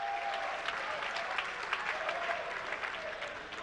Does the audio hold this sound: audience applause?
yes